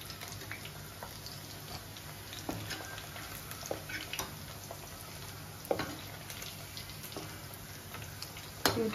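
Chicken 65 frying in hot oil, a steady crackling sizzle with scattered sharp pops and clicks, close and moderately loud with no talking.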